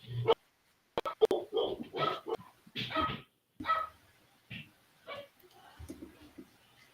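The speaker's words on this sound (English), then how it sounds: "She had to knock on the door, get the dogs going." Several dogs bark in short, sharp bursts after a knock on a house door, close and loud with brief pauses, then trailing off into quieter yips.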